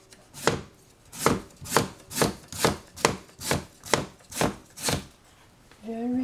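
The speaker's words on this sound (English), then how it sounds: "cut some ginger" A knife chops ginger into thin slices on a cutting board, nine crisp, evenly spaced cuts about two per second, close and clear, followed by a brief voice at the end.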